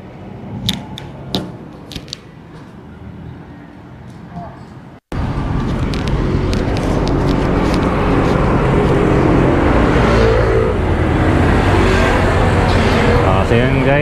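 A car's engine idles and then runs steadily while driving. After a brief cut it becomes a loud, constant rumble with road and wind noise, and someone talks over it throughout.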